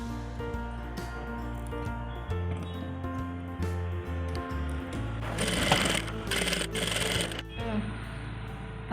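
Sewing machine running in a steady hum while stitching bag fabric with a quarter-inch seam, close by, with a brighter rattling stretch in the middle and soft handling noises.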